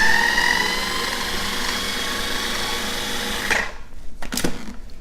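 A food processor runs on high, chopping grape leaf filling with a steady loud whir for about three and a half seconds, then cuts off, leaving a few faint scraping sounds.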